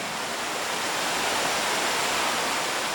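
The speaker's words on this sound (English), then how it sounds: "you can see vast volumes of water cascading down the hills as a result of recent heavy rain and melting snow" Swollen Ogle Burn in Glen Ogle after heavy rain and snowmelt, vast volumes of water cascading down the hills in a loud, steady, broad rushing roar that stays constant throughout, with no voices.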